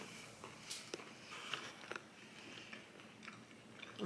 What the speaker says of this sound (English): I'm chewing, now I can't talk.